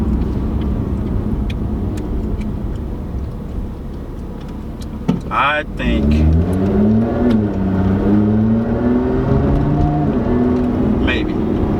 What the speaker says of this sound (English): I can hear your exhaust a lot more than I can hear mine